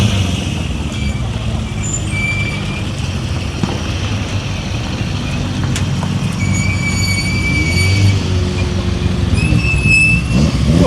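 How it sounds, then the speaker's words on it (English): Historic rallycross cars from the golden era roll in off the track at Lydden Hill, a steady mechanical rumble and road noise carrying high tonal brake squeals that rise and fade repeatedly throughout. "Noisy brakes."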